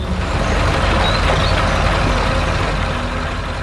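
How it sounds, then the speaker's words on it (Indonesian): Red animated truck with big tires working in a green rice field, its engine roaring in a loud, dense, continuous rumble with no speech. "Suara mesinnya menggelegar menggerakkan tanah dengan kuat."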